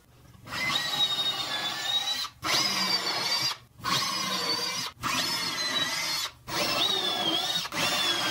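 A power drill drives screws into wooden desk parts in five or six separate whining bursts, each a second or so long, separated by short pauses.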